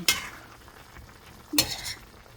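Soy-braised chicken with potatoes gets stirred in a pot: two short bursts of scraping and bubbling, near and fairly loud, separated by a quieter simmering gap.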